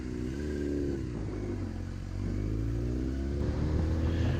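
Yamaha YZF-R6 motorcycle engine idling steadily after starting, a close, continuous low rumble with slight revving swells.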